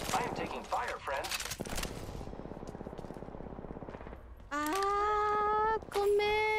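Automatic gunfire in the Apex Legends video game, rapid bursts crackling loud and close in the opening seconds, then a steadier rattling stream, followed by sustained electronic tones.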